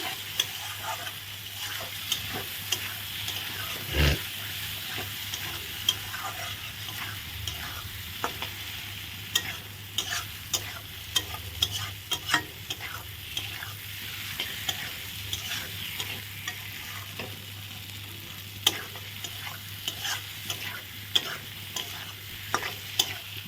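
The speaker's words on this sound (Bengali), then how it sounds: "আলুগুলো দিয়ে ভালো করে নাড়াচাড়া করে নিলাম" Potatoes being stirred in a frying pan for a home-cooked Bengali dish, continuous sizzle broken by frequent scraping and clacking of the spoon against the pan, close up and without speech.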